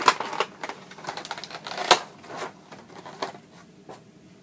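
Packaging of an S.H.Figuarts Kamen Rider Gai action figure being opened up close, with crinkly plastic and cardboard rustles and a few sharp snaps in quick irregular bursts, no talking.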